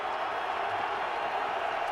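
Stadium crowd roaring steadily at an NFL football game between the Cleveland Browns and Arizona Cardinals, a dense continuous wash of cheering noise held at even loudness throughout.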